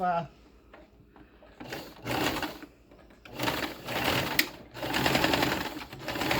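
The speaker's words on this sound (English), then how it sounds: "So now I'll take it here, I'll stitch it together." A sewing machine stitches fabric for a bonnet hat in short, rapid bursts of mechanical whirring, alternating with quieter moments while someone talks nearby.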